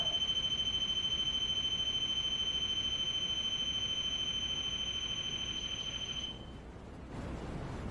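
A ghost-hunting device in a haunted mansion emits a long, steady high-pitched electronic beep tone over hiss, cutting off near the end.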